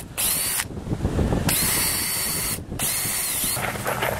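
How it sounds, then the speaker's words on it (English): Power drill pre-drilling pilot holes in wood boards for a quail hutch, three loud whining bursts, each cutting off before the next starts, with a close, steady motor hiss. "Just pre-drill a couple of holes so I don't split my wood out."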